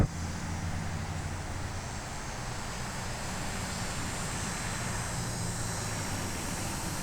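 A 1980s Lincoln diesel engine runs smoothly in a steady, even hum with a low rumble and airy wash, unbroken and with no voices over it.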